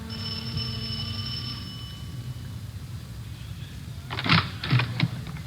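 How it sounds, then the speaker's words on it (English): An old-time radio doorbell effect at a house's front door in a 1950 police drama, a few quick bright chimes heard near the end after a quiet stretch with a faint steady hum. "We went up the front stairs and rang the doorbell."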